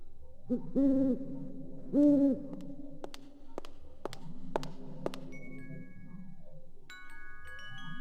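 In the Blade Runner video game, an owl gives two clear, close hoots, followed by a few sharp ticks and faint electronic tones against a quiet room hum.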